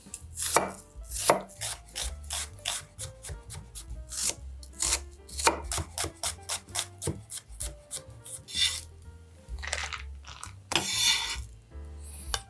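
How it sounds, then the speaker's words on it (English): A knife finely chops shallots on a cutting board for creamed spinach, sharp close knocks in quick rhythmic bursts with brief pauses and a few scraping sweeps, no voices. "I'm gonna cut this up as finely as I can."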